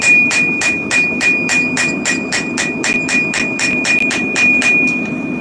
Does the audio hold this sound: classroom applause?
no